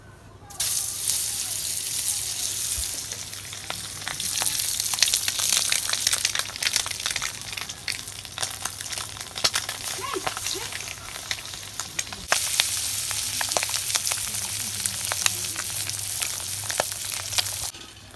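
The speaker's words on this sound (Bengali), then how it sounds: "কড়াইয়ের মধ্যে তেল গরম হচ্ছে এখান আমি ডিমগুলো ভাইজে নেবো" Local hen's eggs fry in hot oil in a wok with a loud, continuous sizzle and crackle that runs for nearly twenty seconds, with brief scrapes and a faint voice in the background.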